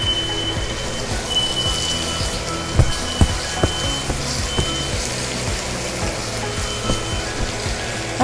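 Steak searing in a hot pan on a kitchen burner gives a steady close sizzle and crackle of frying, with a few soft clinks and thumps of utensils over it and no talk.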